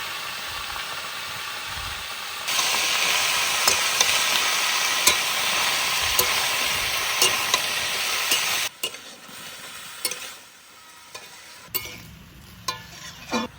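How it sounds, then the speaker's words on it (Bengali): Water lily stems with salt, turmeric and ground ginger-cumin paste are stirred in a hot frying pan, a steady loud sizzle with scraping strokes that drops off near the end, leaving quieter clinks and pan noises. "সবকিছু দিয়ে একটু নাড়াচাড়া দিয়ে নিলাম"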